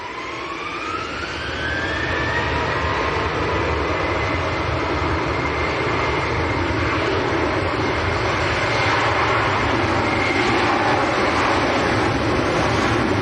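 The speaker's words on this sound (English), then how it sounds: "The Malta Air has pushed back as well." A Malta Air jet pushing back and taxiing at Manchester Airport on a windy day, its engines spooling up from a rising whine into a loud, steady roar that holds throughout.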